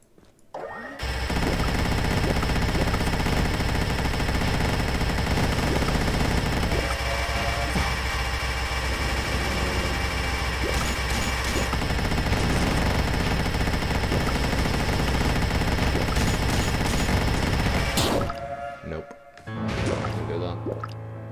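Coin gun firing in the video game Dungreed, a dense, continuous barrage of rapid shots layered over loud game music and effects, running steadily for most of the stretch before cutting out near the end, with talking over it.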